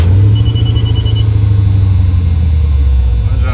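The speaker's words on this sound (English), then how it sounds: "Some of you guys wanted to hear it run in the first video, so let me start it up." A 1988 Chevrolet Suburban engine idles with a deep, steady rumble, loud and close, continuous throughout with no voices.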